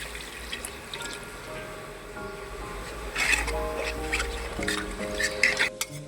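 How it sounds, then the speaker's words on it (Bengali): Water poured into a fish curry with tomatoes cooking in a pan, a gurgling, bubbling splash building over a low steady background, close and moderately loud. "পরে আমি ঘেটে দেব, জল দিয়ে দেবো"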